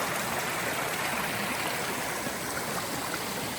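A rain-swollen stream on the Virginia Roller Coaster section of the Appalachian Trail rushes steadily over rocks, a close, continuous, even wash of water with no voices.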